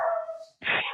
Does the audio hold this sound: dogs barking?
yes